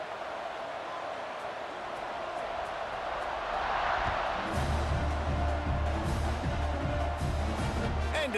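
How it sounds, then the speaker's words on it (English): A college football stadium crowd buzzes with a broad, steady roar that swells midway and grows fuller, with a booming low rumble and faint voices in the mix. "this crowd is buzzing after that last score"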